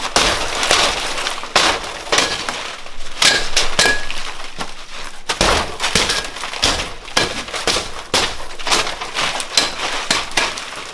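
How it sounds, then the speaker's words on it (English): Window glass protected by security film is struck repeatedly in a home break-in test, giving a long run of loud, sharp smashing and crunching impacts with clinking shards, no talking. "All the glass broke."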